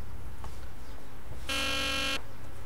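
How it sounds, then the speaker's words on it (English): A door buzzer in Back to the Future: The Game sounds once as a loud, steady electronic drone lasting under a second, with quiet room tone before and after. "Where is the buzzer?"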